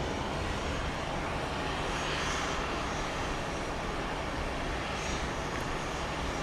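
A Boeing 737-800 on a night flight to Atlanta at Dallas Love Field sends out a continuous engine rumble and hiss, moderately distant and fairly even in level, with no talking.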